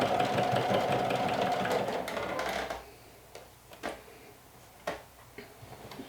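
A sewing machine runs briefly for top stitching with a 3.5 stitch length on a lumberjack shirt cuff, a dense mechanical whir for under three seconds, followed by quieter scattered clicks and handling taps.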